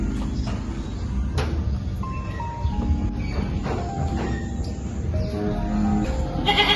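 Goats bleating on a rain-soaked farm during wet weather, a series of wavering bleats repeating over several seconds, fairly close and clear above steady background noise.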